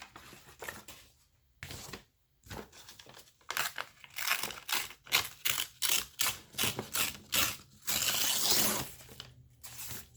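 Paper being torn by hand in a run of short, rasping rips, some brief and some drawn out, close and fairly loud with short pauses between strokes and a longer crinkly tear near the end.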